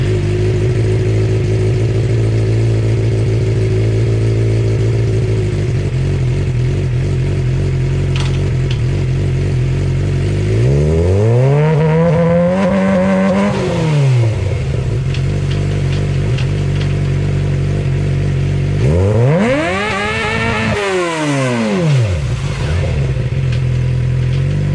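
Suzuki GSX-R motorcycle engine idling steadily, then two sharp revs that climb quickly and drop back down, with clean cuts from the quick shifter. The exhaust is close and loud, and no one speaks.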